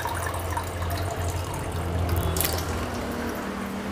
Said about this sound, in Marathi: त्याच्यामुळे मला तिथे अजून एक पेला पाणी घालावं लागेल.